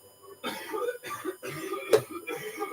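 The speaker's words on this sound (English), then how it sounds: "Yep, coughing blood again." Several harsh coughs from a television drama, in which a character is coughing blood, come in separate bursts with brief gaps between them. They are moderately quiet and heard through the room.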